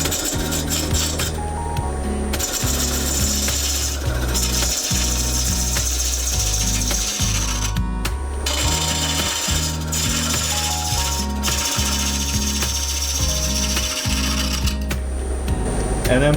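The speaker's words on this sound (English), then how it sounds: "I'm going to start with a pull cut. So I am going to ride the bevel with this cut." A bowl gouge makes pull cuts across the outside of a wooden bowl spinning on a lathe, a steady scraping, rasping drone with rhythmic pulses as the tool rides the bevel, loud and continuous over the motor hum.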